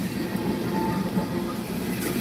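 A long Norfolk Southern manifest freight train rolls past close by, a steady loud rumble of wheels and cars with faint rhythmic clatter and no pauses.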